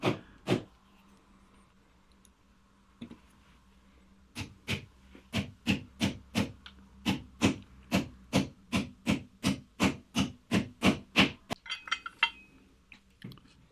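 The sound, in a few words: pushing Gripit plasterboard fixings into hollow plasterboard wall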